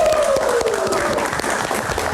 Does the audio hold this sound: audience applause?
yes